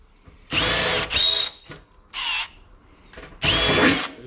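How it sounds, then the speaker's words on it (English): A power drill with a 4mm bit bores pilot holes into sheet metal on a Toyota Prado, firing in three or four loud bursts of whining, grinding noise separated by short pauses. "drill the pilots with a 4mm bit"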